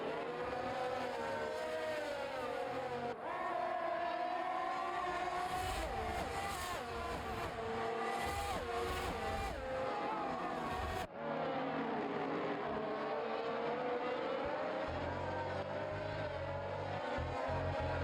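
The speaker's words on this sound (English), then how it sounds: "I have car noise on my ear now" Race car engines roar and whine continuously at the Bahrain circuit, rising and falling in pitch as cars accelerate and pass, loud and sustained with no talk.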